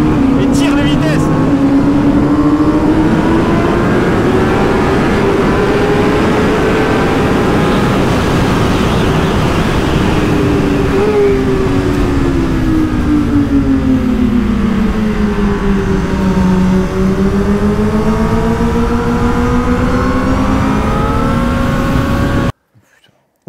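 A Kawasaki ZX10R superbike screams hard on track, its engine pitch rising and dropping repeatedly as it accelerates and shifts up through the gears, loud and close with wind roar, before cutting out near the end.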